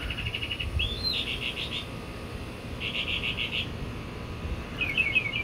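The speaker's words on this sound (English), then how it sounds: "Now I think the birds are just laughing at me." Bright bird chirps come in quick bursts of four or five notes, three times over a steady low rumble of background noise, fairly loud and close, with no voices.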